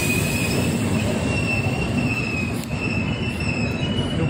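A Patna–Kota superfast express train passes a junction close by, with a continuous loud rumble of wagons, steady wheel squeal and rail clatter throughout.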